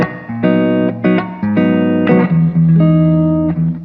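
Loud strummed electric guitar chords fed through a budget Cumulus reverb pedal set to spring mode with knobs centered, several chord changes sustaining and blurring together into a ringing reverberant tail.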